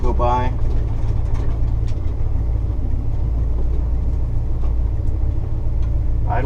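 A freshly restored 1964 Pontiac GTO with Tri-Power carburetion idles on a countryside road, a deep, steady low rumble that stays loud and close throughout, with brief chirpy noises at the start and end.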